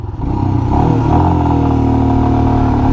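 A Royal Enfield Himalayan motorcycle with a 24-horsepower engine pulls away hard from a standstill in a 0 to 100 km/h speed test, its close engine note rising steadily as it revs up.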